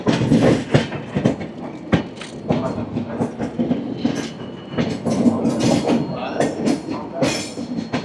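The Sealdah Ajmer Express rumbles along near Agra Fort at night, its wheels clacking in irregular, sharp bursts over a continuous low roar, heard close from aboard the moving train.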